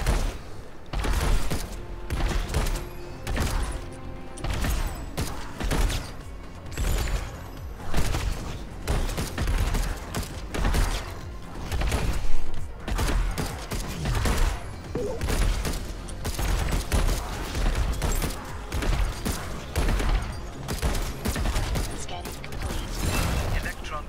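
Revolver fire in the co-op shooter Alienation, a dense run of sharp shots and clanking mechanical bursts over a steady layer of game noise, loud and continuous.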